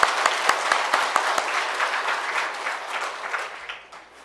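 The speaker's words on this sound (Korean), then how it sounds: "건성건성 박수 치지 마시고 다시 한번 합니다." A church congregation claps together during a Sunday worship service, a dense sustained round of applause with a few sharper claps standing out near the start and thinning slightly toward the end.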